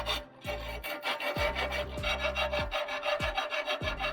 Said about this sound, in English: The edge is sharp, so I need to file to smoothen it.